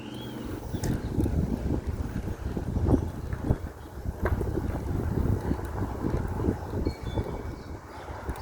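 Wind gusts buffet the microphone while riding a 5,000-watt dual-motor, full-suspension electric mountain bike outdoors, a steady low rumble with swelling bursts and scattered clicks throughout, no talking.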